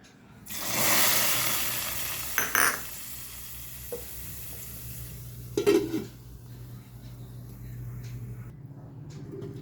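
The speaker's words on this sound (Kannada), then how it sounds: "ಇದಕ್ಕೆ ಒಗ್ಗರಣೆಯನ್ನು ಸೇರಿಸ್ಕೊಳ್ತೇನೆ" Tempering poured into a pot of wild mango curry sets off a loud broadband sizzle that swells and slowly fades, with a few sharp clinks of a utensil against the pot partway through.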